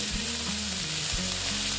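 Bata fish frying in hot oil, a loud continuous sizzle up close with a few brief clanks of a utensil against the pan.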